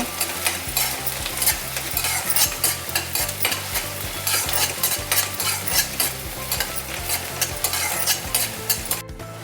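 Green chillies fry in a pan with a loud, close sizzle. A spatula scrapes the pan in a quick, rhythmic stirring pattern, with no voices.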